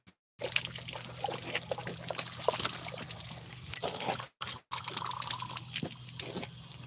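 Water poured from a container into a dog's bowl, a close continuous trickling pour with a brief break near the end, no speech.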